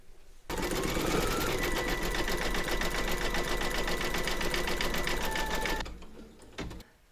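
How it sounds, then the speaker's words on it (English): A home embroidery machine satin-stitches grey thread around a bunny's ruff, a loud, steady rapid needle chatter running continuously for several seconds before stopping, followed by a few faint clicks. "we're now going to do the satin stitching of the ruff"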